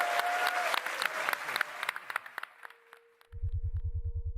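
Crowd applause at the Marathon game reveal, dense clapping that thins out and fades, followed by a low, rhythmic electronic pulse.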